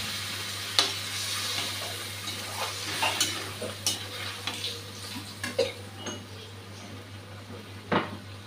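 Squash and fried potatoes simmering in a pan after a splash of water, a soft continuous sizzle with scattered scraping stirs and clinks of utensil against metal, close by over a low steady hum.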